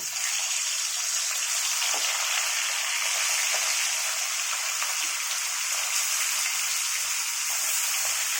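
Loud, steady high-pitched sizzle of hilsa fish frying in hot oil in a kadai, a continuous crackling hiss with occasional soft pops.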